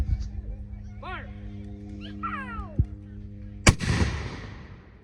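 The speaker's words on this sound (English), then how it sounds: "Firing cannon!" A Revolutionary War 3-pounder cannon fires once with a sharp, loud blast and a decaying rumble, preceded by a shouted command and a meowing cat, with a low engine-like hum running underneath.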